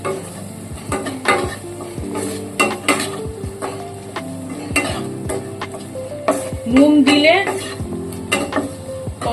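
Onion and capsicum stir-fry in a pan with a steady sizzle, punctuated by repeated sharp scrapes and clinks of a spatula against the metal, close and fairly loud.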